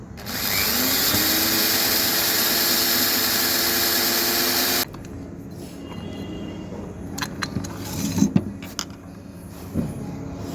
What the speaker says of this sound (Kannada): ಇವಾಗ ಇನ್ನೊಂದು ಕಡೆ ಹೋಲ್ ಮಾಡ್ತಾ ಇರೋದು.